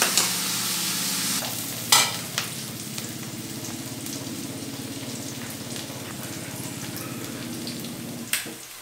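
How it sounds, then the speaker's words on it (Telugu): Onions and curry leaves fry in a pan for a mushroom masala curry, giving a steady, close sizzle with occasional stirring scrapes and no talking. "మన ఆనియన్స్ వేగడానికి కొంచెం సమయం పడుతుందండి, గోల్డెన్ బ్రౌన్ రావాలి కదా."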